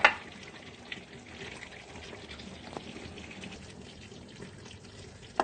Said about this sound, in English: now the meat is already brown, so I want to add some water